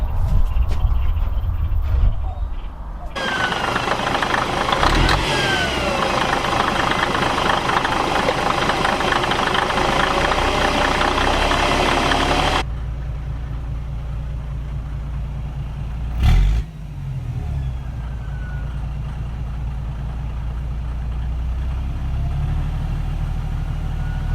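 A 1977 Peterbilt 359 truck engine runs loud and close, its rumble rising and roughening when the hand throttle is pulled, then dropping back to a steady low idle, with a brief clunk partway through.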